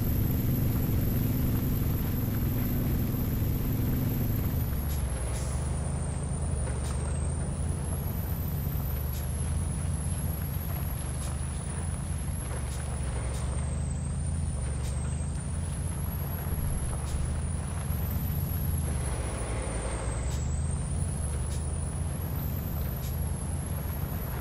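A truck in the off-road driving game MudRunner rolls through mud, its engine droning low and continuously while a high whine wavers above it, with no voices and no clear squelch standing out from the motor.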